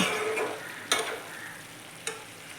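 Chana masala sizzles softly in a pan as a lid is lifted, a steady low frying hiss with two brief clinking accents.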